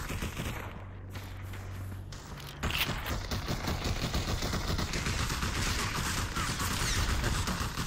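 Rapid gunfire in the VR shooter Population: ONE, a dense stream of shots that grows louder and steadier after a brief lull, continuing without pause and heard alone.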